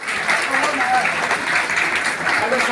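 An audience gives a steady burst of dense, continuous clapping that fills the room for a few seconds, with voices faintly mixed in.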